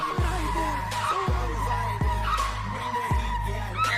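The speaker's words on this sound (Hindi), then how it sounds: "फर्स्ट टाइम में ड्रिफ्टिंग शुरू कर दी" A car drifting in an action movie scene, with tire skids squealing in four sharp repeated bursts over a sustained engine drone and busy background effects.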